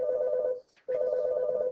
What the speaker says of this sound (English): Unless your phone's ringing